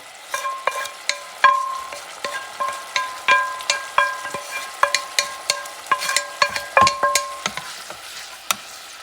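Mushrooms stir-fried in a pan for a beef ramen, a rhythmic series of ringing metal clinks and scrapes from a utensil against the pan over a light sizzle, close and clear, with no talking.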